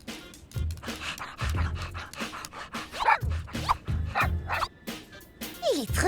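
A small cartoon dog in the French-dubbed cartoon Squish pants and lets out repeated short, high barks and yips in an irregular rhythm, close and fairly loud across the clip.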